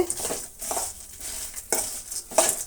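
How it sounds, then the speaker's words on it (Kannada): Lentils are fried in a pan for tamarind chutney, with quick scraping stirs and light clinks of a spoon against the pan over a faint sizzle, close up. "ಸುಮ್ಮನೆ ಸ್ವಲ್ಪ ಫ್ರೈ ಮಾಡ್ಕೊಳ್ಳೋಣ ಒಂದು ನಿಮಿಷ ಹಾಗೆ ಫ್ರೈ ಮಾಡಿಕೊಂಡ್ರೆ ಸಾಕು"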